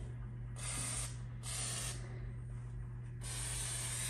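Three hissing bursts of WD-40 aerosol spray into holes in a lawn tractor's seat frame, each about half a second to a second long, close up over a low steady hum.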